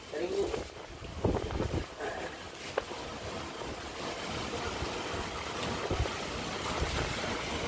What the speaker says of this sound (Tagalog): Ang lakas ng alon ng dagat oh.